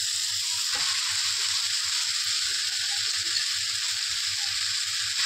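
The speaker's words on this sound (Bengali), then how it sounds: "এবার আমি আলুর সাথে পেঁয়াজ টমেটোর সব মশলা নেড়ে নেব, ভালো করে ভাজা ভাজা হয়ে যাবে" Grated potato fries in a pan with onion, tomato and spices, giving a dense, continuous close-up sizzle with faint stirring underneath and no talking.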